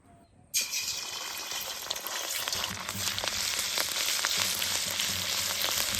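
Ginger paste drops into hot oil in a clay pot for a vegetarian handi biryani, bursting into a loud, sudden sizzle that settles into a steady close crackle with light stirring.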